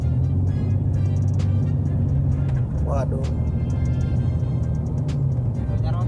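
A Jeep Cherokee XJ engine with an aftermarket Borla exhaust rumbles steadily with a deep, throaty idle, while a person briefly speaks over it.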